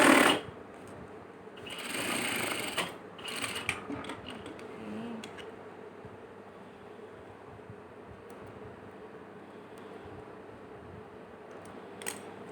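Sewing machine stitching mermaid-cut fabric on a number 5 stitch setting, a steady close mechanical whir that surges loudest early on and then settles into a softer continuous run.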